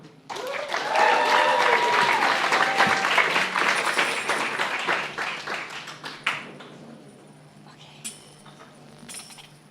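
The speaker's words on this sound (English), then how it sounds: "Can we have a big round of applause" Audience applause at a live gig at The Bedford swells quickly into sustained clapping for several seconds, then thins to a few scattered claps near the end, with faint voices and clinks in the room.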